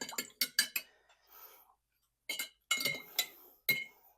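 Paint is stirred in a glass container, with quick light clinks of the tool against the glass coming in short bursts and pauses, quiet and close.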